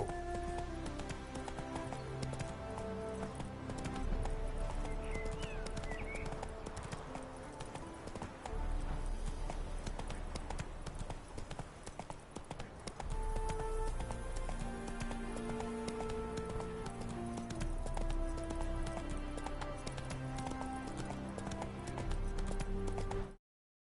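Roach, the horse in The Witcher 3, gallops steadily with a rapid, continuous clip-clop of hooves, close and even throughout, layered over sustained background music.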